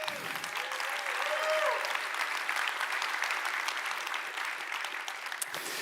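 Audience at a React tech conference applauding, a dense sustained wash of many hands clapping that holds steady for several seconds before thinning at the end.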